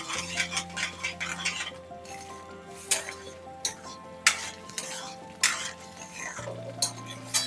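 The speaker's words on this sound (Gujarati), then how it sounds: "બધું મિક્સ કરી દેવાનું, હલાવી નાખવાનું." A spoon stirs pav bhaji masala paste in a pan on a griddle, with repeated sharp metallic scrapes and clinks at an uneven rhythm over a soft sizzle, close up.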